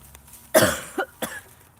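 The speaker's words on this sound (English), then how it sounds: "Sorry for my cough." A single sharp cough up close, followed by two smaller throat-clearing coughs, with quiet gaps between them.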